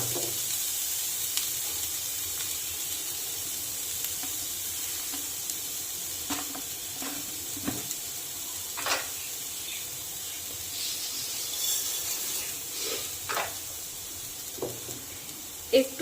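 Grated coconut sizzles steadily in a hot wok, a continuous frying hiss with occasional stir clicks and scrapes across the whole stretch, fairly close and moderately loud, with no talking.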